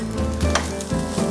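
Nasi goreng with kaffir lime leaves frying in a hot pan, a close, continuous sizzle with brief stirring scrapes and no talk.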